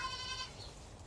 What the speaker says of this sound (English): There's another goat that or kid that's trying to nurse on Brenda, and she's not having it. So yelling at it.